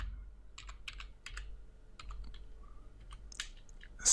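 Close, quick keystrokes tap out a git command on a computer keyboard in irregular bursts of crisp clicks against a quiet background.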